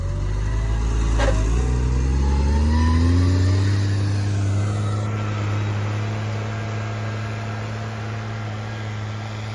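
A tractor pulls an Uman plough through a very wet, boggy field, its engine droning steadily and loudly, with a strong low hum that swells and eases slightly as it works, no talking.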